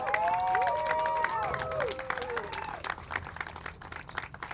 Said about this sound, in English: Give you guys a big round of applause, please.